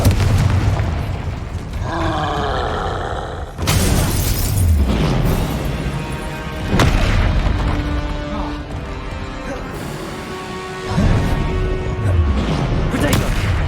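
The Confringo explosion spell in Hogwarts Legacy bursts loudly several times amid spell-casting effects and combat noise, with a rising whoosh before the first heavy blast and further booms following.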